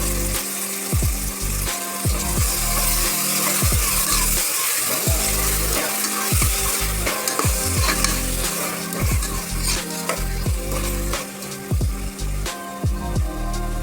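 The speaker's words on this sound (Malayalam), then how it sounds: "ഇനി നമുക്കതിലേക്ക് തക്കാളി ചേർത്ത് കൊടുക്കാം." Tomatoes fry with ginger paste for a beef curry, with a continuous close sizzle and repeated rhythmic scraping and clinking of a spoon against the pan over a steady tonal background.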